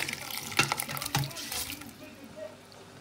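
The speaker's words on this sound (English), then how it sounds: "So I'm going to add the meat stock." Meat stock and cooking water poured into a pot of ogbono soup with bitterleaf, a steady close liquid splash and trickle that tapers off toward the end, with a voice faintly present.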